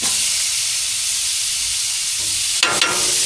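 Steaks sear in a hot pan with a loud, steady, close sizzle and hiss, broken near the end by a couple of brief spattering bursts.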